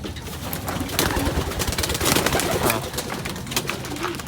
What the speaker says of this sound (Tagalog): Kini kalapatids.